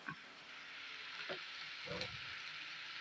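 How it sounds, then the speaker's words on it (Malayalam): Mustard seeds frying in hot oil with cinnamon sticks, in home cooking where garam masala is also added. A steady, close sizzle and hiss runs throughout, with a few brief stirring scrapes. "കറുവപ്പട്ടയൊക്കെ ഇട്ട് കടുക് വറുക്കുക."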